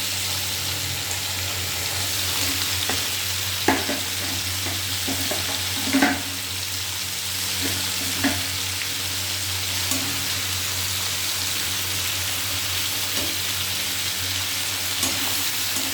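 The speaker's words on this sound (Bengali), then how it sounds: "লবণ দিয়ে আবার একটু নাড়া দিয়ে নেব।" Food frying in a pan after salt goes in, a continuous close sizzle with occasional spatula knocks and scrapes as it is stirred, plus a low steady hum underneath and no talk.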